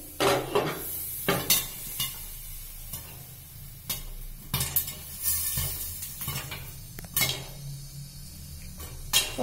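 Popcorn kernels for masala popcorn burst in a covered pan, sharp scattered pops and knocks landing irregularly against a faint steady background hiss.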